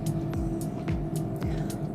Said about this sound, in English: It is raining outside and there's cars going by.